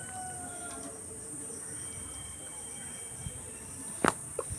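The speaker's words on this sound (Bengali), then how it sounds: "দেখুন এই ঝিঝি পোকার আওয়াজ শুনতে পাচ্ছেন" Crickets chirp steadily among village greenery, a faint high continuous trill with a few soft bird calls and brief sharp sounds near the end.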